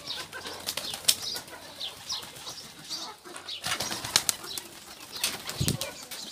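Pigeons in a bird keeper's flock flap their wings in repeated bursts of soft fluttering, some close and some farther off, with faint bird calls and no talk.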